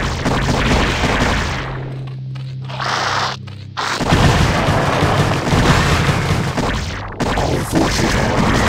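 Battle explosions from the StarCraft video game crash out in a dense barrage of booms and bursts that stop for a moment near the middle, then rush back loud and continuous.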